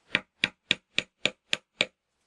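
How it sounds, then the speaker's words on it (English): A small hammer lightly taps parts into place during a Y carriage assembly, seven short, even, evenly spaced knocks at close range with no talking. "You might have to use a small hammer to tap them."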